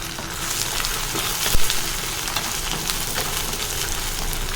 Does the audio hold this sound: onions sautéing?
yes